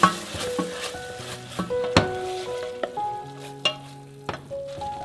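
Oyster sauce mixture warmed and stirred in a pan while making steamed fish with lotus, with a steady sizzle broken by sharp utensil scrapes and clacks against the pan, close and fairly loud, without talk.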